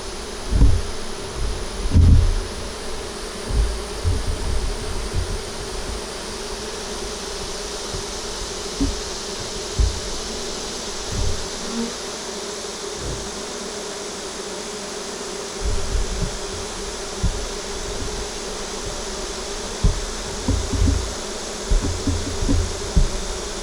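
Honeybees in a deep eight-frame hive drone in a constant dense buzz, close and loud throughout, with soft occasional rustling knocks from the hive and no voices.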